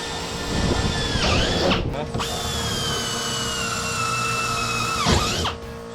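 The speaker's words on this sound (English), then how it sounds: "Can you hear it drill slowing?" A power drill whines loudly at high speed, briefly stops, then runs again with its pitch gradually dropping as it slows before cutting off.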